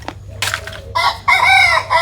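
A small rooster crows close by and loud, one drawn-out, wavering crow lasting about a second, after a few brief rustles and faint chirps.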